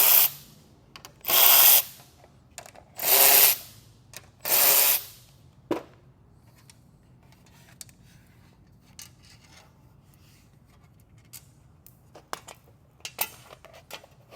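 A hand tool rasps and scrapes while nuts are worked off screws holding down a car floor mat: three long scraping bursts close together, then sparse small clicks and taps.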